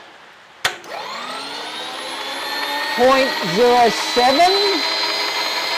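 A lathe's power feed spins up in rapid after a sharp click, a rising motor whine settling into a loud steady hum, while a person talks over it in the second half.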